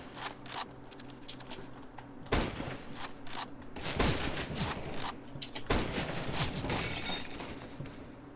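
Gunfire in a 2v2 competitive Counter-Strike: Global Offensive match, with several loud bursts of rapid shots and sharp cracks that come in clusters over continuous game background noise, with no talking.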